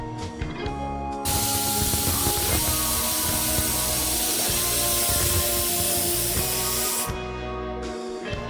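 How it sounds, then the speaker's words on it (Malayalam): A pressure cooker vents steam in a long, loud continuous hiss lasting several seconds, with a few clatters and kitchen sounds just before and after. "കുക്കർ അടച്ചിട്ട് ഒരൊറ്റ വിസിൽ വരെ കാത്തിക്കുക"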